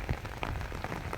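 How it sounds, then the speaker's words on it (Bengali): Light rain pattering steadily on surfaces outdoors in a village, a soft continuous wash of small drops, close and unaccompanied by voices. "এই বৃষ্টি পড়তেছে"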